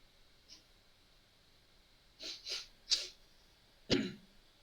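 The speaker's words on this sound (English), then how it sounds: "I'm simply blowing my nose." During a tabletop role-playing game night, a person blows their nose in a few short, breathy bursts, quiet and close, ending with one sharper, stronger blast.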